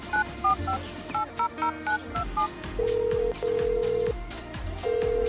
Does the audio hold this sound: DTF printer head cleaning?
no